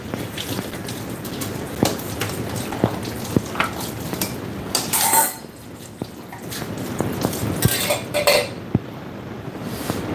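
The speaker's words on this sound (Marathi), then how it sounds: "आपण आपली भांडी पाण्यातनं काढून ठेवू" Metal pots and dishes clatter and knock against each other with splashing water, in irregular bursts against a steady outdoor wind.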